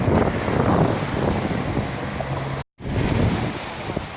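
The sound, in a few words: ocean waves breaking on shore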